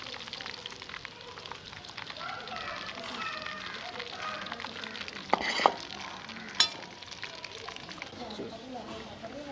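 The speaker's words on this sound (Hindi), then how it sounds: "गोश्त को मैंने थोड़ा थोड़ा करके सारे को फ्राई कर लिया इस तरीके से।" Meat for pulao sizzles steadily in hot oil in a pan, with occasional stirring clinks and scrapes, a continuous close crackle throughout.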